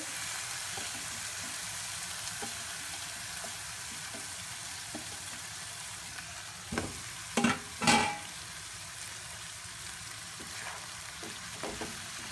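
Split moong dal with turmeric is stirred in a pot over a soft, constant sizzle, with a few louder scraping strokes of the spoon near the middle and no talking.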